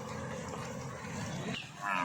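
Low, drawn-out moos and lowing from a bull against a noisy outdoor background, with a louder bellow rising near the end.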